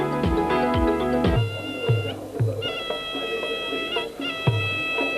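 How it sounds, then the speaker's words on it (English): Live band playing traditional Ram Muay music at a Thai boxing stadium: a loud, nasal wind melody with bending, sliding pitches over a series of deep drum thumps, close and without voices. "those who are unfamiliar with the sounds of the Ramue, that is what you're hearing right now from the live band here in the stadium"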